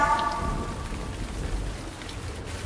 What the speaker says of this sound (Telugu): అయ్యో అంతా చీకటి, ఎంత పెద్ద వర్షం!